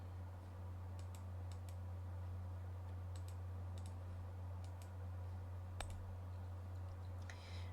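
A computer mouse clicks several times, sharp faint taps in small pairs and clusters spaced across a quiet room over a low steady hum.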